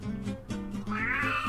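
A house cat meows insistently through the whole stretch, a rising, warbling cry that swells louder near the end, close to the microphone and with no talk over it.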